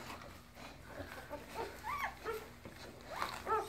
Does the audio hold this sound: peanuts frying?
no